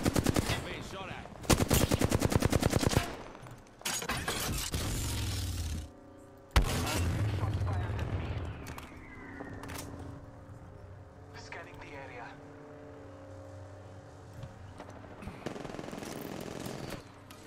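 Bursts of rapid automatic gunfire from a video game crackle loudly in the opening seconds, then give way to heavy explosive-like rumbles and quieter game noise with scattered tones.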